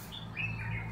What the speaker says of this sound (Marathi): आणि याचबरोबर या ठिकाणी पक्ष्यांचा वेगवेगळा आवाज येतो.